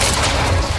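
A time bomb detonates in the game Quantum Break, a short, loud, booming burst with a heavy low rumble and crackling texture, no talk over it.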